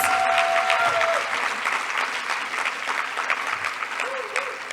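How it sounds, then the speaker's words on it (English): Audience applause at a closing ceremony in Panama, a full room of steady clapping that carries on evenly, with a brief voice fragment near the start. "let's all give a round of applause"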